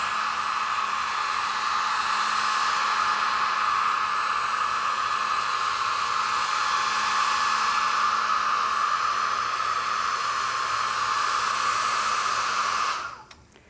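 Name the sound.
hair dryer on low setting drying a mat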